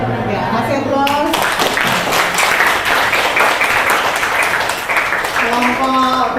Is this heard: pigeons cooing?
no